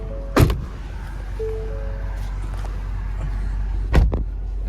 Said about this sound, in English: Hang on, my door's not closed all the way.